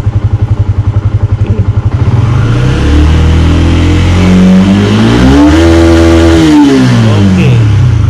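A Yamaha Y15 V2 motorcycle with an aftermarket ECU idles in a loud, rapid putter, then its engine revs slowly up toward about 10,000 RPM and falls back, very close and loud.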